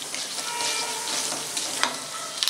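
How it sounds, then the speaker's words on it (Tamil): Mustard seeds and urad dal sizzle steadily in hot oil in a kadai, a dense continuous frying crackle with a few sharper pops near the end, close and fairly loud with no voices. "ஒரு கடாயில் எண்ணெயை காய வச்சு அதில் கடுகு உளுந்த பருப்பு போட்டு நல்லா தாளித்து எடுத்துக்கலாம்."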